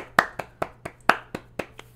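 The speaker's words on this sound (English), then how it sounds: "please give a big round of applause for Wilhelm." Applause for a man named Wilhelm: a sparse run of sharp, separate hand claps, roughly eight in two seconds, fairly close and moderately loud, with no voices.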